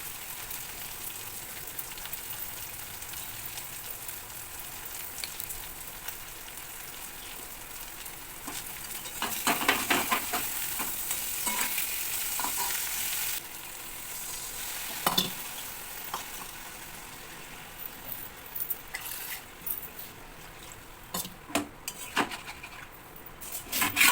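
Onion frying in a pan alongside fish and mustard gives a soft, steady sizzle, broken by scraping stirs and occasional louder clatters of a utensil against the pan.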